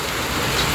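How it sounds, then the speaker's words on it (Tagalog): Heavy rain pouring down on a house under construction, a steady close broadband hiss of drops drumming on surfaces with no pauses. "Bira ang ulan na to."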